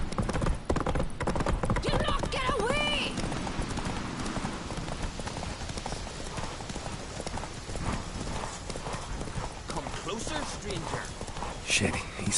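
The horse Roach gallops in The Witcher 3, a rapid rhythmic clip-clop of hooves running the whole way, loud and close, with a brief whinny early on and game voices talking over it.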